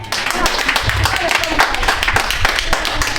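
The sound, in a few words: congregation clapping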